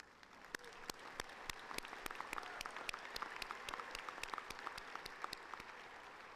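A commencement audience at a university College of Engineering applauds master's degree graduates, giving steady, fairly distant clapping with sharp individual claps standing out over several seconds.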